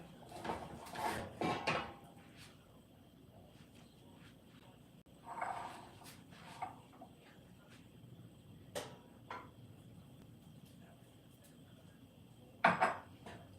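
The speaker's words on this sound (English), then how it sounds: "Let me keep stirring my corn to make sure that it cooks evenly." A spoon stirs corn in a cooking pan, giving intermittent scraping and clinking. Louder clattering bursts come near the start and again near the end, with quieter scrapes between.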